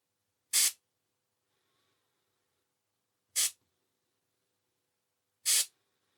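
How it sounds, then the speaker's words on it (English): Three sharp, brief bursts of air hiss from a Huma-Air regulator valve on a BRK-Brocock cylinder rifle, spaced a few seconds apart with silence between, loud and close. "We can simulate taking a shot by loosening this valve here."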